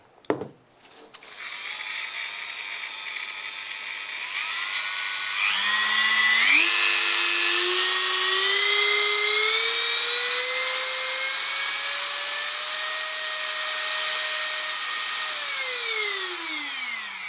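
A high-pitched Dremel rotary tool whirs steadily, its motor pitch rising in steps as it speeds up, then winding down at the end; loud and close, no talking.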